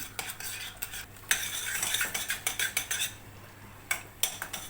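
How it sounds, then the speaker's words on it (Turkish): Tomato paste sautéing in a pan, a spoon scraping and clinking against the metal in quick uneven strokes over a low, soft sizzle, close and with no talking. "Önce bir 2-3 dakika salçayı kavurayım"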